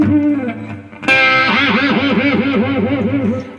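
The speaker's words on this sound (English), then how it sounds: "we have wide vibrato with the same tremolo bar." Electric guitar played with wide vibrato from a tremolo bar, a sustained note swooping up and down in a steady wavering rhythm after a short opening phrase, loud and alone with effects-laden tone.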